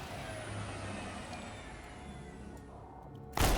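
Vehicle engines run in the Menace strategy game, a steady low rumbling drone throughout with a faint air-brake-like hiss, then a sudden louder broadband burst near the end.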